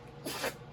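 A dog's single short, breathy sneeze, close and fairly quiet, over a faint steady background hum.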